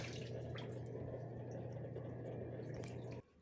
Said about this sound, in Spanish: ella entra como en stand-by y luego sigue botando otro poco de agua